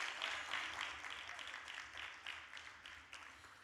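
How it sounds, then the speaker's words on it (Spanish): A church congregation applauds, the clapping faint and distant as a soft, even patter that slowly tapers off. "Un fuerte aplauso, Anayeli."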